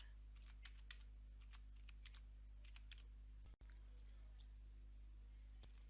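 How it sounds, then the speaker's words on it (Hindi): Quick bursts of keystrokes on a computer keyboard as a word is typed, light close clicks in a short run, a pause, then a few more taps over a low steady hum. "तो यहाँ पर हम टाइप कर देंगे प्रिमिटिव"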